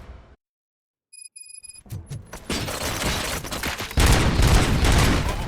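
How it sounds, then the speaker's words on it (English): Gunfire in the RoboCop Rogue City video game: a brief hush broken by electronic beeps, then rapid bursts of shots and booms that build into a loud, continuous fusillade of firing. "Gunshots?"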